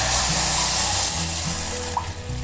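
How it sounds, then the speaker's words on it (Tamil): Prepared stock poured into a pan with melted butter for almond broccoli soup, a loud close rushing splash of liquid with a faint sizzle underneath, lasting a couple of seconds. "அந்த ஸ்டாக்கு நம்ம ரெடி பண்ணி வச்சுருந்தோம் இல்லையா, அந்த தண்ணி அதில் ஊற்றிப்போம்."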